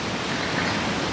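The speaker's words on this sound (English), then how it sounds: "Because it's really raining." Heavy rain pours steadily outdoors on a city street, a dense, even hiss of falling water filling the whole moment at close range with no voices.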